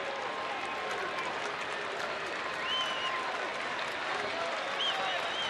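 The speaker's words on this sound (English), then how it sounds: "A large crowd out here on Yu Darvish bobblehead night." A large baseball stadium crowd on a bobblehead promotion night during a Houston at Texas game applauds and murmurs steadily, a dense wash of clapping and crowd noise throughout with a few faint whistles.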